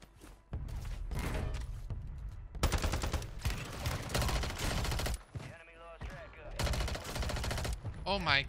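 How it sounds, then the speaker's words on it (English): Rapid automatic gunfire in Call of Duty Warzone on Rebirth Island, several long loud bursts of close shots separated by short pauses, with a voice speaking briefly between them. "Oh my god, I'm shooting."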